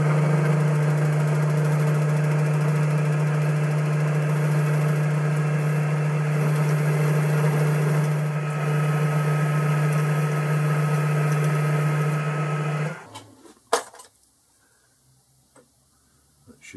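A lathe turns while a chamfer is cut on the corner of a cam vice handle, giving a steady, close mechanical hum with a faint ticking for about thirteen seconds before it winds down, followed by a few scattered clicks.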